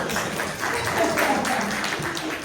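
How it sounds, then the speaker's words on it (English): Applause from a conference audience at a finance forum, a soft, continuous patter of clapping with faint murmuring voices mixed in. "you can applaud him. He deserves it."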